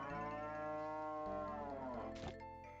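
Cows moo in the farming game Harvest Moon: Grand Bazaar during milking, a long sustained low bellow with a falling pitch, clear and alone.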